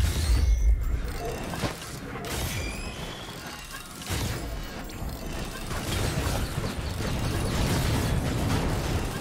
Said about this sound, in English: Just let missiles spawn and shoot the boss.